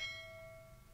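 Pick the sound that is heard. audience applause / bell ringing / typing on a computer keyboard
bell ringing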